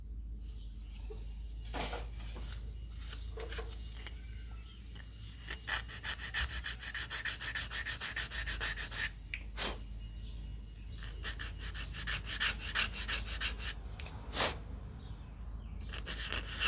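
Guitar headstock binding on walnut veneer is sanded by hand with 320-grit sandpaper. Soft, close rhythmic rubbing strokes repeat at an uneven pace over a low hum, with no talking.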